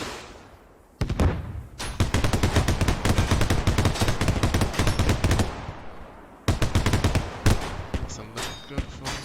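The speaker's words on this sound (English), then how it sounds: "Warrior gets first shots off" An armored Warrior vehicle's gun fires in the Squad video game, loud rapid bursts of automatic gunfire in long strings, a brief pause, then another burst, with faint talk underneath.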